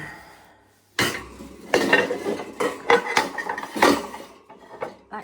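A pan being put away among other dishes in a kitchen: a string of sharp clatters and clinks of cookware knocking together, close and uneven, after a quiet start.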